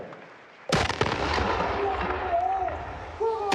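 A military artillery battery fires a blank-round gun salute on command: one sharp, loud outdoor blast followed by a long echoing rumble, with crowd and voices faintly underneath.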